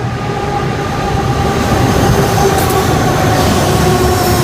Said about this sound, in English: we have some CEY classes passing